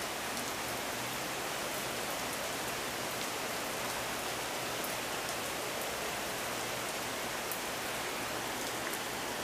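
Steady rain falling outside while sheltering in a garage, a dense, even hiss of drops on surfaces that stays constant and moderately loud, with no voices.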